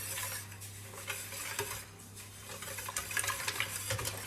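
A whisk stirs custard in a pot on the stove with quick, rhythmic metallic scrapes and clicks against the pan, close and fairly quiet, growing busier toward the end.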